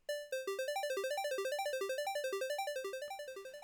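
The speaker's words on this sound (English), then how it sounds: "And that is the Utopia theme sequence." Synthesized Utopia theme sequence: a rapid, evenly pulsed run of bright electronic arpeggio notes stepping up and down in a repeating pattern, close and steady at moderate loudness with no voices.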